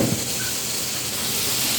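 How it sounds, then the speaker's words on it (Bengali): Hilsa fish tail sizzling in hot oil in a small wok, a steady loud hiss and crackle running throughout without a break. "ইলিশ মাছের লেজ দিয়ে দিলাম ছোটোতে কড়াই"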